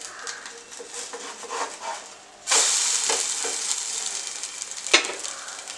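A methi omelette sizzles in a hot pan: quiet kitchen sounds give way to a sudden loud, steady frying hiss that continues to the end, with a sharper crackle near the close.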